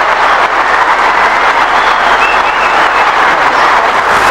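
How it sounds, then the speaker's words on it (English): A large tennis crowd at the 1975 Australian Open gives a standing ovation after Newcombe beats Connors, loud, dense, sustained applause that continues without a break. "It's a standing ovation which goes on and on."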